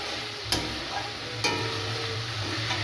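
Masala spice paste for a desi chicken curry frying in oil with a steady close sizzle, two sharp stirring scrapes standing out over the continuous crackle; no one speaks.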